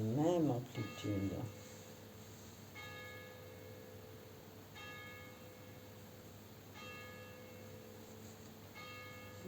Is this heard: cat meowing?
no